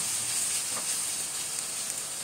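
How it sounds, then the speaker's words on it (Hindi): Onion and ground garlic fry in a hot pan with a steady, close sizzle and hiss that holds at an even level throughout, with no voices over it. "फिर से अच्छे से इसको पका लेंगे ताकि खुशबू आना शुरू हो जाए लहसुन की।"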